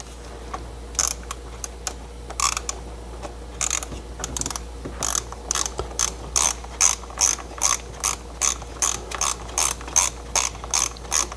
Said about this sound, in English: I'm just going to tighten them with a short handled 3/8 ratchet.